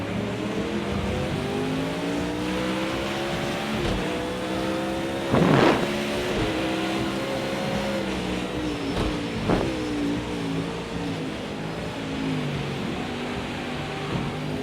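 Race cars circling a track in a racing video game, engines droning and revving continuously at high pitch, shifting tone as they close in from behind, loud and steady throughout.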